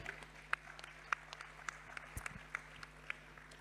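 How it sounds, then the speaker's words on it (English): A conference audience claps for a professor who has just spoken, a few sparse, faint claps spaced out over a quiet room rather than a full ovation. "So round of applause for Professor Flake."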